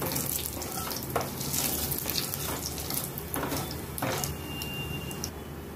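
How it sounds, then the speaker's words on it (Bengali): Black cumin seeds fry in hot oil as a pumpkin and small shrimp curry is started, giving a steady, close hiss with scattered faint crackles throughout and no talking. "কালো জিরেটা যখন তেলের মধ্যে ভাজা হয় তখন খুব সুন্দর একটা সুগন্ধ বের হয়"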